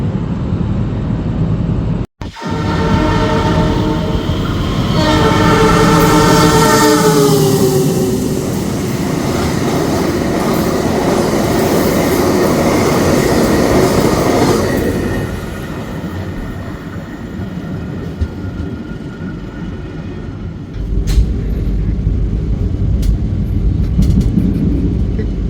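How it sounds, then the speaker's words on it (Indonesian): A loud passenger train rumbles past close by through Ngawi station, a horn-like tonal blast sweeping early on, then steady rolling noise that eases off toward the end. "Kita lihat aja teman-teman kereta apa yang akan melintas stasiun Ngawi."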